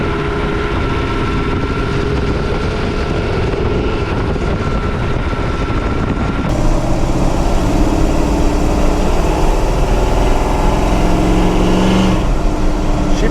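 A Toyota truck with a small-block Chevy V8 swap, on 35-inch tires, gives a steady loud engine and road drone from inside the cab while driving. Near the middle it becomes a rougher, louder rumble.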